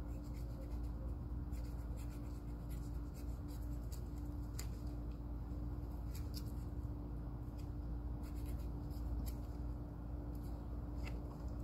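A catfish's skin is peeled off by hand with a steady, close, scratchy tearing and rubbing texture, continuous over several seconds and no talking.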